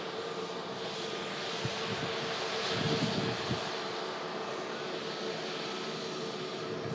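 A Pegasus Airlines jet arriving from Antalya rumbles with a steady, fairly distant engine roar that swells slightly midway, with no talk.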